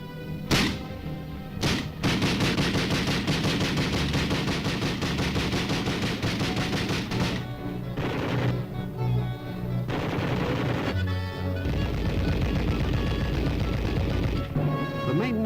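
Military weapons fire during Arctic testing in Alaska, with sharp opening shots followed by dense, sustained bursts of gunfire and rumbling blasts that stay loud and continuous throughout.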